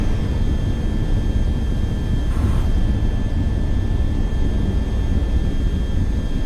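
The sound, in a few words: jet aircraft taking off, VTOL VR video game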